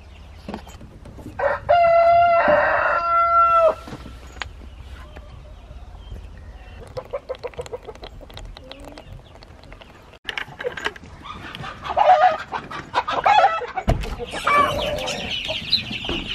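On a backyard flock's farm, a rooster crows loudly and close while chickens cluck around it, with scattered scratching and shuffling noises and bursts of nearby clucking later on.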